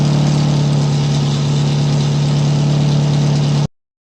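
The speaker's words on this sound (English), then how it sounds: "I can talk over the exhaust with the car running right now" A Mazda Miata with a patched catback exhaust idles close by, a steady low drone that holds evenly for a few seconds and then cuts off abruptly.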